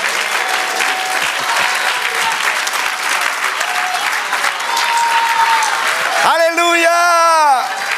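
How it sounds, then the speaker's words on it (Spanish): A church congregation applauds loudly and continuously, a thick wash of clapping with brief whistles, then a voice sings out near the end. "Denle un aplauso al Señor."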